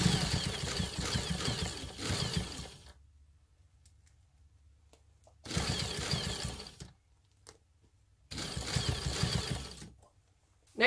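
A sewing machine stitches the seam allowance along the top of a dress in three bursts of a few seconds each, a steady close whirring hum separated by quiet pauses.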